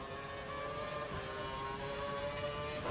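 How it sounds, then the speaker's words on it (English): A racing car engine in the F1 2012 video game, at the Bahrain circuit, drones as a steady high whine with a faint tonal harmonic layer, fairly quiet and continuous, with no voices. "You can hear his engine"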